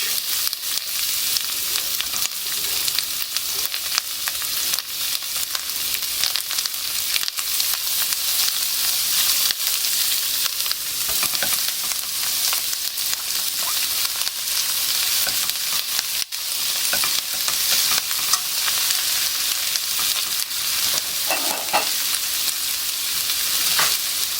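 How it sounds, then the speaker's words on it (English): Carrot and cabbage fry in extra virgin olive oil in a pan, giving a steady loud sizzle with faint stirring scrapes throughout. "I'm going to add a little bit of extra virgin olive oil to this pan, and we're going to go straight in with the carrot and the cabbage."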